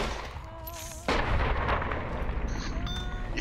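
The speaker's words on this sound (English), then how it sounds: "bullet time me shooting a mantis" In Fallout: New Vegas, a single loud gunshot booms at a mantis, followed by a long, rumbling reverberation over faint game ambience.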